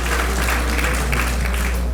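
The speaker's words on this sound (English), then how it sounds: "So please give them a round of applause" Banquet audience at a university homecoming donors dinner gives a round of applause, a continuous wash of clapping over a steady low hum from the room's sound system.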